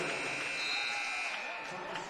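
The end-of-game buzzer sounds at a girls' high school basketball game, a sustained electronic drone held for a couple of seconds over a noisy gym crowd with voices in the background.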